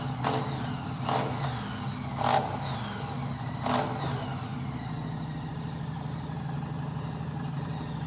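A Harley-Davidson motorcycle engine idles with a steady low rumble close by, broken by a few sharp short blips of the throttle early on before settling back to a continuous idle.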